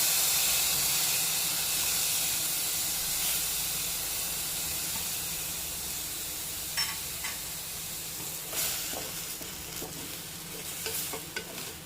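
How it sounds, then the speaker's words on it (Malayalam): Sesame seeds tipped into a hot pan sizzle and hiss steadily while being stirred, with scattered scraping clicks growing more frequent toward the end, close and fairly loud with no voices. "ഇനി ഇതിലേക്ക് തന്നെ നമുക്ക് എടുത്തു വച്ചിരിക്കുന്ന എള്ളിട്ട് കൊടുക്കാം"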